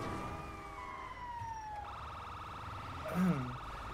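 A wailing ambulance siren sweeps up and down in GTA 5, loud and close with a brief sharper burst near the end, while players talk over it.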